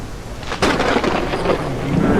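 Heavy rain and a sudden thunderclap from the survival game The Isle Evrima, the rain hissing constantly while a loud crack gives way to a rolling rumble.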